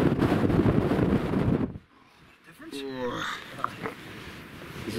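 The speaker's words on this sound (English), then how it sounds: "The wind is horrendous." Strong wind batters the microphone on the exposed hilltop at Auchope Cairn, a loud roaring buffet that drops away abruptly partway through, after which a person talks over lighter gusts and rustling.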